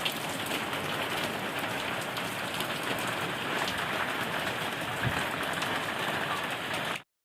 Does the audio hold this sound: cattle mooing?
no